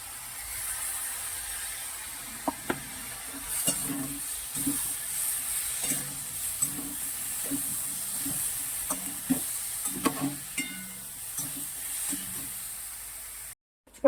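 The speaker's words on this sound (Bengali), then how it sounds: "সয়াবিনের মশলাটা কষানো হয়ে গেছে" Soybean curry masala made with ginger, green chilli and tomato paste sizzles steadily in a pot while a spoon scrapes and stirs it in repeated knocks and scrapes.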